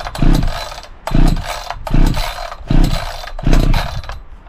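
Four rhythmic pull-start strokes on an ECHO CS-590 Timberwolf chainsaw with choke out and decompression valve pressed, each a loud close rasping rip of the recoil cord with the engine turning over but not catching.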